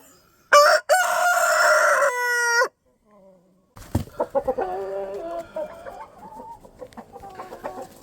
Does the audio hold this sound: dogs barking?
no